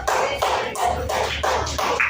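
People at an education supervision coaching session give rhythmic group applause, loud and close, in about six even bursts.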